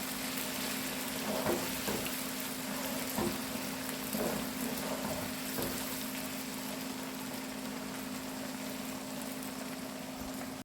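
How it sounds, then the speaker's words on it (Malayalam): Soft, steady sizzle of prawns frying in oil over a low constant hum, with a few faint pops and crackles early on. "കൊഞ്ചിനെ കൂടി നമ്മൾ ഇതുപോലെ വറുത്ത് കോരി എടുത്ത് മാറ്റി വെക്കുക"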